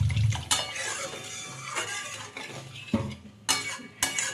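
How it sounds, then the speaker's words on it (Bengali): Water splashes into a pan of simmering fish curry with potatoes and brinjal, accompanied by close, intermittent clinks of a metal spoon against the pan and a few sharper knocks. "আমি একটু আন্দাজ মতো জল দিয়ে দেব"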